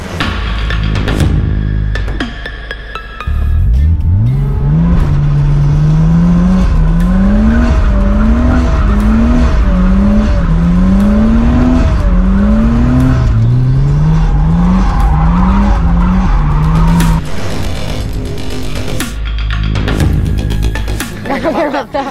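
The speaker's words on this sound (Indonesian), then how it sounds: "kamu bisa ngedrift mobil ini" A drift car slides through a garage drift challenge, its engine revving in rising and falling sweeps while tires squeal and skid for about fourteen seconds, loud and close, with a burst of engine noise before and after.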